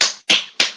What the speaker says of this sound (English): That's the sound of two hands clapping